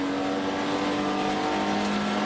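A BMW E30 race car works through a hairpin among a group of cars, its engine droning loud and steady at close range with continuous mechanical roar and no speech.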